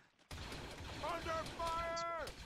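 Gunfire in Arma 3 during a Star Wars themed squad battle, dense broadband crackle of shots under overlapping voices and radio chatter, with a steady loud bed of combat noise.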